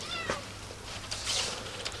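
A cat meows several times at an outdoor cookout where sausage is grilling over coals, with faint background noise and a brief clatter.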